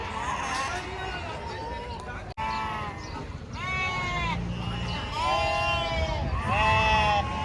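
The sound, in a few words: sheep bleating at goat market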